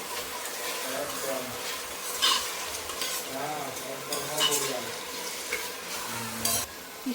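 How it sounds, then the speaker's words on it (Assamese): Onion and mixed vegetables frying together in a pan for veg pulao give a steady, close sizzle, broken by the scrape and clatter of a spoon stirring against the pan. "দুয়োটা একেলগে ভাজি লৈছোঁ"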